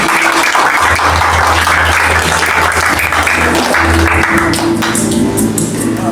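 A crowd applauds loudly and continuously for mothers at a Mother's Day gathering, with steady dense clapping over a low background hum.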